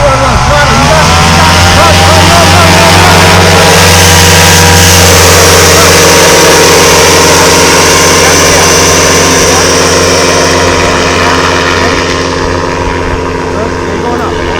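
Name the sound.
paramotor engine throttling up for takeoff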